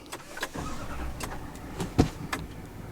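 A 2025 Chevy Silverado 3500 High Country engine cranks and starts, a low rumble building under a few sharp clicks and thumps, fairly close and steady for a few seconds.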